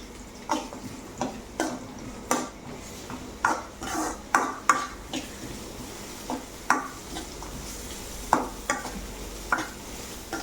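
Onions and cumin seeds frying in a pan are stirred back and forth, with scattered clinks and scrapes of a spoon against the metal over a steady low sizzle, close up and without talk.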